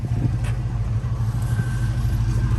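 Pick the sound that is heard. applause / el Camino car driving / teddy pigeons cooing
el Camino car driving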